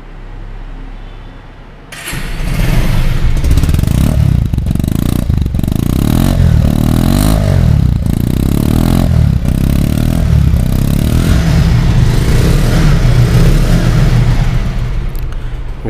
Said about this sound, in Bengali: আর গাড়িটির সাউন্ড কোয়ালিটি এখন শোনাবো